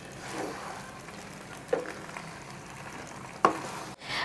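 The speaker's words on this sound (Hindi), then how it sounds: "अब मैं इसे सॉस और वेजीज के साथ अच्छे से मिक्स कर लूँगी।" A spoon works pasta through white sauce and vegetables in a pan over a soft steady sizzle, with a few distinct scraping knocks and a sharp clatter near the end.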